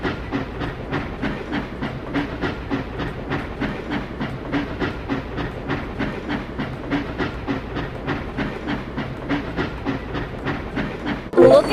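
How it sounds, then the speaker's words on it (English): A video game train starts moving, chugging along with a steady rhythmic clatter and hiss, the beats evenly spaced throughout, ending with a short burst of noise. "Let's send the train to the depot."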